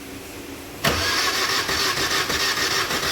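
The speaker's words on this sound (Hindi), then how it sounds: "इंजन की जो सेल्फ की आवाज़ है वो खाली खाली इंजन घूम रहा है" Quiet background, then a car's starter motor kicks in and cranks the engine, which has a broken timing chain and camshaft, with a steady rhythmic churning that continues without the engine catching.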